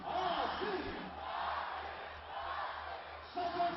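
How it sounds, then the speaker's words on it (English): A crowd at a National T20 Cup cricket match between Rawalpindi and Faisalabad cheers as local hero Asif Ali walks out to bat, a steady distant roar with a louder swell near the end. "A lot of cheer as he walked out."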